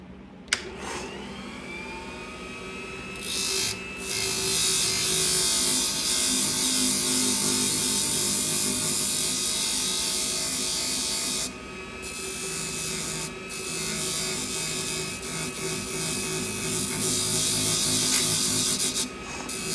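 Hair salon shears with a convex edge being polished on an 800-grit sharpener: a steady, close abrasive rasp runs almost continuously, with a few brief pauses and a faint machine hum underneath.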